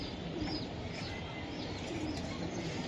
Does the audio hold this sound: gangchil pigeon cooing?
yes